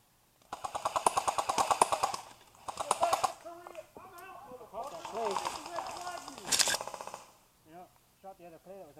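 Airsoft gun fired in bursts of rapid clicking shots outdoors during play in thick cover, loud and close, mixed with people talking in between and over the shots.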